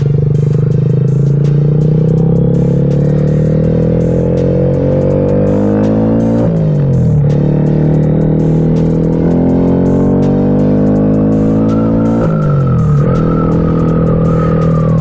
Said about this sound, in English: Ooh, that exhaust sounds nice.